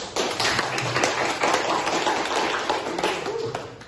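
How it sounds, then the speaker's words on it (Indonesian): Students clapping together in a senior high school civics classroom, a steady dense patter of many hands filling the room at close range, with no voices over it. "Sekali lagi, tepuk tangan semangatnya"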